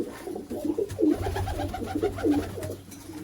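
Several pigeons coo in repeated soft, throaty phrases close by at a pigeon sale, the rolling calls overlapping in an uneven rhythm with no talk.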